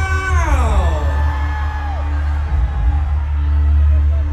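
Crowd at a Kota Kinabalu versus Ranau final contest whoops, yells and cheers in a sustained, loud roar, with a dense low rumble of voices throughout and a few rising shouts near the start.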